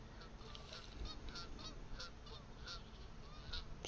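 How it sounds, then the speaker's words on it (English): Repeated goose honks from the Fishing Planet video game at the San Joaquin Delta, a series of short nasal calls spaced irregularly over a steady ambient background, moderately distant. "Sounds like we got a spastic duck. Or goose."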